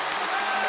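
Boxing arena crowd roaring as the KSI vs Logan Paul fight ends, a brief dense wash of cheering and applause, loud and sustained.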